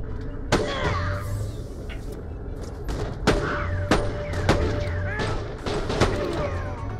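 Sharp gunshots crack at irregular intervals amid Borderlands: The Pre-Sequel game sound effects and a low hum, with someone talking underneath.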